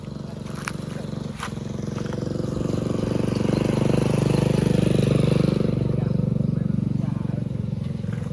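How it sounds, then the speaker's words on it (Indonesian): A motorcycle engine runs steadily close by with a loud, sustained drone that swells gradually, a couple of sharp clicks early on, no speech over it. "Sorik motor lho."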